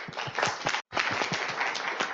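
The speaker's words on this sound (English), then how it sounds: "Give yourselves a round of applause." Audience applause at the close of a climate week panel event, a dense steady wash of clapping that drops out for a split second and then resumes just as full.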